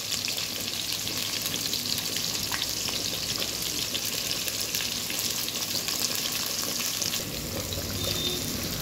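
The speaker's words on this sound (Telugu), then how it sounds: "ఆనియన్స్, పచ్చిమిర్చి అండ్ ఎండుమిర్చి వేసాను." Cumin, mustard seeds, onions, green chilies and dried red chilies frying in hot oil, a dense, even crackling sizzle that holds steady throughout with faint stirring.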